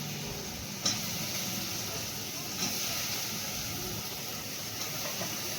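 Washed val beans hit hot fried masala in a pan, giving a steady, even sizzle and hiss with a couple of small clinks, close and moderately loud.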